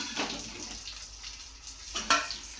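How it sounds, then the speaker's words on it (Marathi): Stuffed brinjals tossed in hot oil after a cooked masala give a soft, close sizzle with a couple of brief stirring scrapes and a sharper clatter near the end, no voices. "वांगी आपण चांगली दोन तीन मिनिट तेलामध्ये परतून घ्यायचे आहेत"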